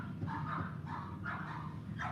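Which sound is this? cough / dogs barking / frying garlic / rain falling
dogs barking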